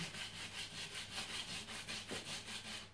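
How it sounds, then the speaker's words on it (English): A bone saddle from a Yamaha G245S classical guitar being sanded down by hand, giving a steady rhythmic rasp of back-and-forth strokes, about ten even passes, close and alone. "So just continue to sand it down."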